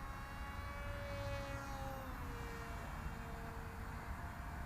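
A Rambler RS radio-controlled model airplane cruises around at part throttle, its motor a steady, moderately distant drone with pitch that slowly slides as it passes, and no other sounds.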